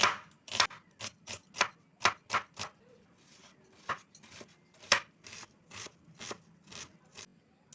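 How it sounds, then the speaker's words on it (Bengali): A knife chops an onion on a board in quick, crisp strokes, close by, a fast run of taps that slows into sparser cuts with a faint background hum. "তো পেঁয়াজটা এখানে আমি কুচি করে নেব।"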